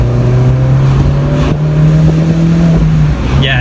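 A 2015 Mini Cooper pulls through corners held in second gear, its engine note droning loud and steady with a strong low tone that rises slightly, then eases near the end.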